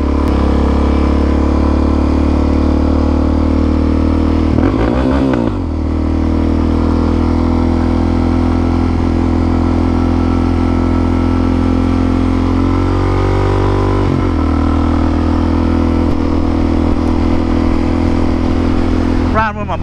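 A supermoto motorcycle engine drones steadily close by while riding, with pitch swells and a couple of revving dips, and a person talks over it throughout.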